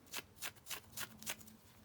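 Scissors rough up the edges of fabric for a fabric heart dangle, with five rhythmic rasping snips and scrapes close to the mic, evenly spaced and fairly quiet.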